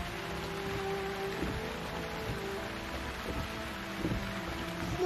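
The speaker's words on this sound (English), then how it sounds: "Mommy, it's raining." Steady rain falling outdoors, a continuous soft patter with low rumbling background, moderately loud and unbroken, no talk.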